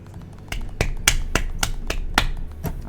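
Hands clap about nine times in a quick, even rhythm, close and crisp, with no voices.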